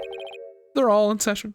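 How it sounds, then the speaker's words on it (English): Phone ringtone in a video game: a short run of quick electronic chirps followed by a sustained tone, then a person starts talking over the end. "That's my phone. I have to answer this."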